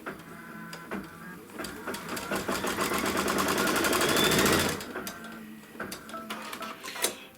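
A sewing machine stitches the trim line on a Kimberbell wallflower quilt block, running in a loud, close, rapid mechanical chatter for several seconds. Softer clicks and handling noises come before and after the run.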